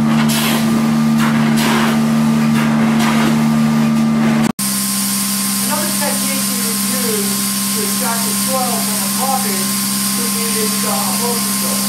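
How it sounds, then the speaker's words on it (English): Carpet extraction machine for wall-to-wall and area rug cleaning gives a loud, steady motor drone with a humming tone, cut off by a brief break midway before droning on. "This is a typical kind of extraction that one can use in cleaning carpets wall to wall and also area."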